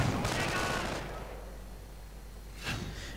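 Explosions and gunfire crackle in a Company of Heroes battle, with a loud burst at the start and another sharp blast near the end, while the battlefield keeps rumbling between them.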